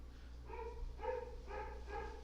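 Three or four rhythmic dog barks in quick succession, somewhat distant, with a constant low hum underneath.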